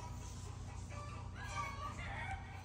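Chickens cackle an egg-laying song faintly in the distance, a loose run of squawky calls over a steady low hum.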